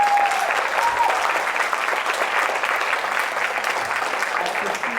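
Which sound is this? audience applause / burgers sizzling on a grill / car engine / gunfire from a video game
audience applause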